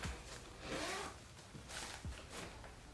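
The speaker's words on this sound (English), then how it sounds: "there is this little zipper right here" A zipper on a memory foam futon cover is pulled in a few short, quiet rasping runs, close by, with brief pauses between them and no talking.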